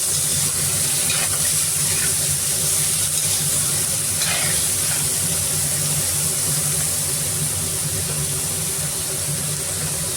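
Onion frying in hot oil with mustard seeds, cumin and garlic in a pan, a loud continuous close sizzle with occasional stirring scrapes throughout.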